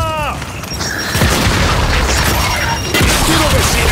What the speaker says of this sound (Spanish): ¡Fuera, bomba!